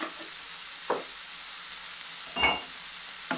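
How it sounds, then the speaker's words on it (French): Food frying in a pan with ginger powder just added, a steady close sizzle broken by three short scraping stirs, the loudest near the middle, with no talk. "Et là, elle mélange."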